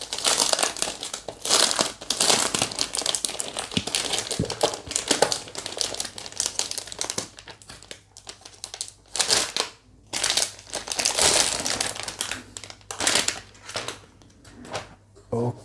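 Plastic packaging crinkles and crumples in bursts as an aluminium mechanical keyboard is unwrapped nearby, loud rustling coming and going throughout with brief pauses.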